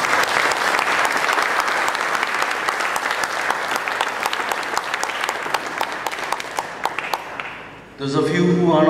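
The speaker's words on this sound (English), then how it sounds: "Let's give Gary a hand of applause" A room of listeners claps warmly for a mentor at a tribute gathering, a full, sustained round that gradually thins and fades out, followed by a brief burst of voices at the very end.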